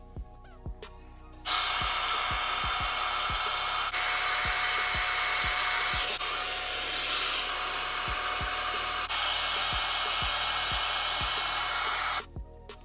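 A hair dryer set to high speed roars with a loud, steady whoosh for about eleven seconds, switching on abruptly and cutting off at the end.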